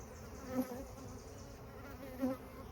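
Honeybees buzz around an open hive of a growing colony, a close, steady drone that swells twice as individual bees fly past, with no talking.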